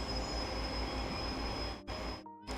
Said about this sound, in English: I swear these trains get louder and louder.